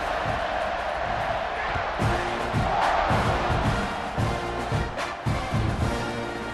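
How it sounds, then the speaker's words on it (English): Stadium crowd noise from EA Sports College Football 26 roars steadily, with loud cheering swells and thumping hits, while a commentator talks over it. "You think this crowd's going to get loud when their defense comes on the field?"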